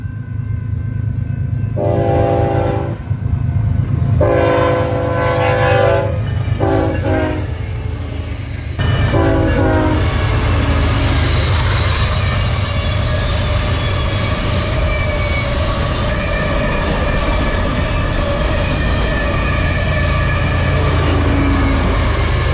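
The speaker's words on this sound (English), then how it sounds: "The second train we'd see would be a westbound manifest, with a friendly crew, 2 Jeebas on the front and 1 on the rear." A westbound manifest freight train with two GE locomotives leading and one at the rear sounds several long horn blasts, then rumbles past loud and close with continuous clattering wheels and faint squeals.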